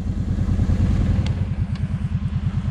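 Idling engine of a Kymco Vario utility quad, smoking while it sits, chugging in a steady low, regular rhythm up close with a faint rattle, no talk over it.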